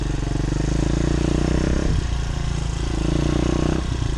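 A Demon DXR 125 pit bike engine runs loud and close while being ridden, with a steady droning buzz that dips briefly around each gear change before pulling again.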